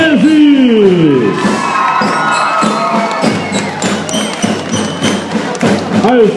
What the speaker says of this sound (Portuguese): Uma salva de palmas para a Escola Municipal, professor Romeu Menezes